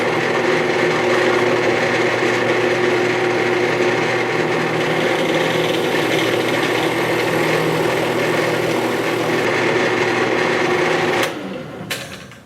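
A Vevor drill press runs and drills in a steady, loud, continuous whir that holds constant, then winds down near the end, with no talk over it.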